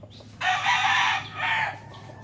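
A single loud, close crow from a champion fighting rooster, with a drawn-out call in two swelling parts over a quiet background.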